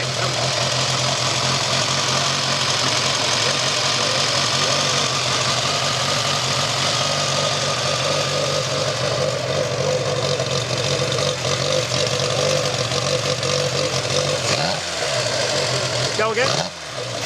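A one-off 1929 AJS inline four-cylinder prototype motorcycle engine idles steadily and loudly throughout, with a continuous mechanical rumble and ticking, and brief voices faintly under it near the end.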